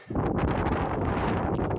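Strong gusts of wind buffet the microphone during a mountain climb on a north face, a loud, continuous roaring rumble with no voices.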